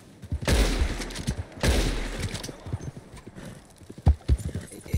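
Heavy hoofbeats thunder in rapid bursts, a galloping horse in the video game Red Dead Online, close and loud, with a couple of separate strikes near the end.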